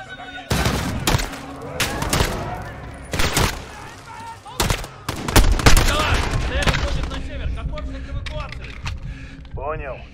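Gunfire in Call of Duty Modern Warfare (2019), loud bursts of shots and booms scattered across the scene, mixed with voices talking over the action.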